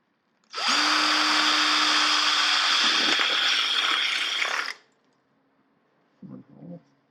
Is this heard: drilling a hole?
yes